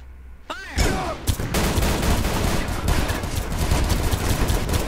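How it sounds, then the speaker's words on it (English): Gunfire in a video game: a sharp opening shot followed by a dense, continuous rattle of loud, close firing that fills the rest of the stretch. "You fire one round. Fire!"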